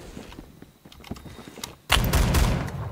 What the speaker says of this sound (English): Maybe some of you guys might have known this, but this is a good shotgun.